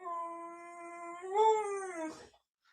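A dog named Dexter gives a sustained, wavering howl-like whine close by, rising in pitch midway before trailing off into a brief silence, with no talking over it.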